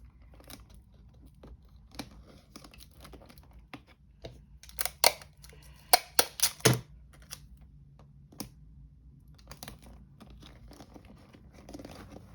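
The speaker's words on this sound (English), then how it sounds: "now I'm going to take some little strips of tape and tape the side of this watch box to the side of the container" Strips of tape are torn and pressed down to fix a watch box to the side of a container in a gift basket. Close, sharp ripping and crinkling come in irregular bursts, loudest in a quick cluster near the middle, with no talk.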